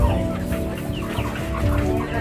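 Local rooster and hens on a Nepali chicken farm cluck and murmur continuously at close range, a busy overlapping chatter of fowl with no talking.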